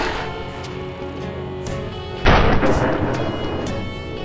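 A sharp, loud gunshot from SteamWorld Heist bursts in partway through, cracking out of a low rumbling backdrop with a brief booming tail and faint echoes after it.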